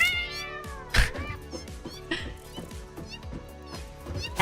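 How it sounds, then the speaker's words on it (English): Cat meowing and caterwauling in the video game Satisfactory: several drawn-out, wavering yowls rise and fall over a busy bed of game music and effects, with one sharp louder cry near the start. "I'm being attacked by a cat!"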